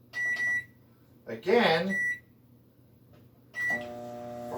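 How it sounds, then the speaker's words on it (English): A microwave oven melting a gluten-free dark fudge mixture beeps several times as it is set and started, followed by a steady running hum. A person speaks briefly between the beeps. "So we're going to microwave him"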